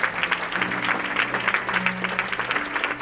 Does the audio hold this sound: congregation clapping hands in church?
yes